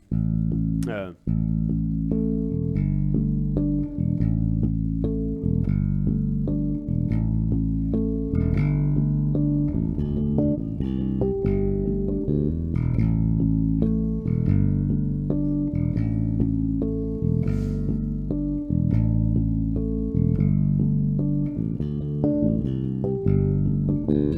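A bass guitar plays a repeating riff of harmonic chords in 7/8, with bright bell-like overtones over a deep, steady low end, no talking.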